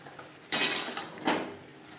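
Fried potatoes and pointed gourd being tossed with spices in a pan for a vegetarian curry: a few distinct scraping clatters of a spoon against the pan, three short bursts, close and otherwise quiet.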